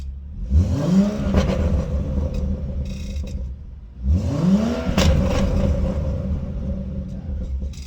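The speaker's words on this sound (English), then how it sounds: "the BMW sounds insane. Let's give it a rev." A BMW M135 hot hatch engine is revved twice, each blip rising sharply from idle to a loud throaty roar and falling back to a rumbling idle.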